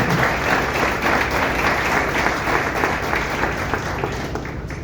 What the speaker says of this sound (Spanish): Yo creo que eso se merece un aplauso al Señor porque Él es digno de recibir alabanza